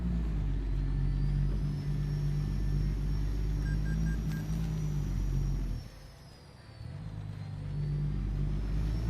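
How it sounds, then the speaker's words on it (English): A modded truck in American Truck Simulator hauling an oversized load cruises with its exhaust droning in a steady low purr, dipping briefly mid-clip before the engine note returns. "just gotta listen to the fucking exhaust every now and then"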